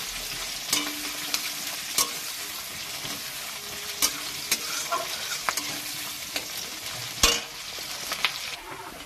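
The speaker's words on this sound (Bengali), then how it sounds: "দেখুন আমার পেঁয়াজটা বাদামি রঙের হালকা হালকা ভাজা হয়ে গেছে" Onions sizzle steadily in hot oil in a pan for mutton curry, a quiet continuous crackle punctuated by several sharp scrapes and knocks of a spatula stirring them.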